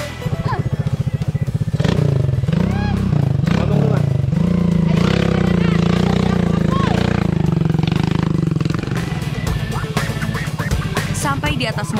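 A mountain motorbike on a steep mountain road, its engine loud and close with a rough, labouring drone that rises and shifts as it pulls away, while voices speak over it.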